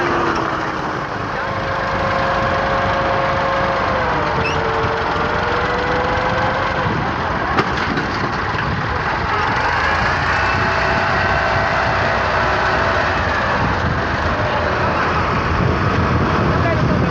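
Massey Ferguson 385 and 260 tractors idle with a steady, rumbling diesel drone throughout, close and continuous, with slight wavering in pitch.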